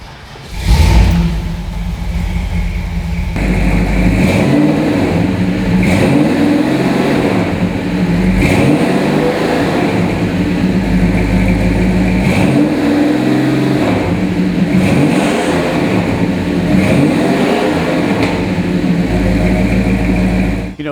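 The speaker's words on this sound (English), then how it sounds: "what does a Hemi really sound like? How about I fire it up for you so you can hear?" A 1966 Plymouth Satellite's Hemi V8 fires up and revs repeatedly, loud and close, with deep rumbling bursts rising over a steady idle throughout.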